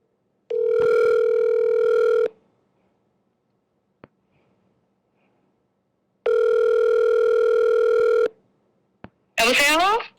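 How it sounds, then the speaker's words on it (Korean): Telephone dial tone while placing a call on a Korean radio quiz segment: two long steady buzzing tones separated by silence, a faint click between them, then a short burst of voice at the end. "지금부터 전화 걸어 보실까요?"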